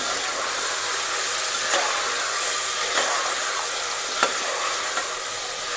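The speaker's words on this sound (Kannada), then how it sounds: "ಎಣ್ಣೆಯಲ್ಲಿ ಸ್ವಲ್ಪ ಎಲ್ಲ ಫ್ರೈ ಆಗಲಿ" Mixed vegetables for a vegetable pulao frying in hot oil give a steady, loud sizzle throughout, broken by a few soft scrapes and knocks as they are stirred in the pan.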